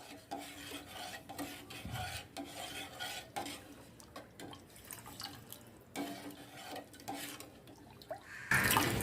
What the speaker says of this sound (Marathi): व्यवस्थित हे असं मिक्स करून घ्यायचं आहे.